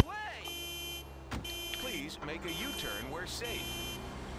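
Car alarm in the video game GTA IV, a steady electronic tone with harmonic bands under someone talking over game engine noise, followed by warbling siren-like pitch sweeps.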